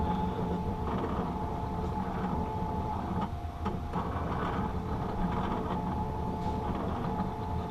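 A lens edging machine traces and cuts a prescription sunglass lens for a pair of Prada frames, giving a steady, loud mechanical whir and grinding hum that runs continuously without pause.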